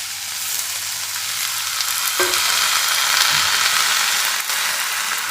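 Dal tipped into hot oil for a fenugreek dish sizzles and fries steadily throughout, with a brief splash of sound as it hits the pan and light stirring scrapes, no talk.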